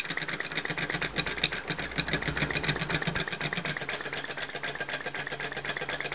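A small flame gulper engine runs outdoors in the wind with a fast, even chuffing beat. It is moderately faint and keeps a steady rhythm throughout, with no talking.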